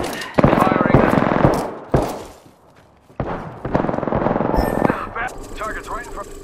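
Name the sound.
gunfire in the Apex Legends video game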